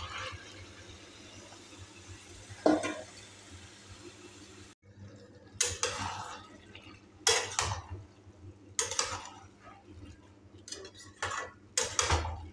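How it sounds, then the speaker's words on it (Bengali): Green jackfruit stir-fried with chicken and spices in a pan, quiet simmering under repeated metallic scrapes and clanks of a spatula against the pan in bursts, close and intermittent. "এবার এঁচোড় দিয়েও কিছুক্ষণ কষাতে হবে।"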